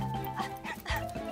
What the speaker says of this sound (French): Non, c'est le chien de ma tante Phyllis.